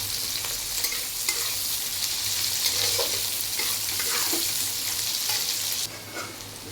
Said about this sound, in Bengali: আর মশলা সব দিয়ে দিয়েছি, দিয়ে এখন কষাচ্ছি